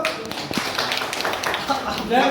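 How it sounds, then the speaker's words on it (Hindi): Participants in an FLN teacher training batch clap together as a group. Quick hand claps and taps sound at close range, mixed with people talking over them, and grow a little louder toward the end. "तालियां बजाएं सब लोग"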